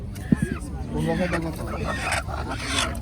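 Chickens at a busy rural market near Dohar give short, sharp clucks and honk-like squawks among crowd noise, while people bargain loudly nearby.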